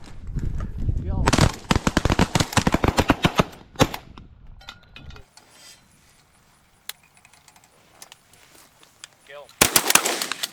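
Shotguns fired at pigeons during a hunt, loud and close, with a dense burst of repeated blasts, a quieter stretch, then more shots at the end and voices talking between them.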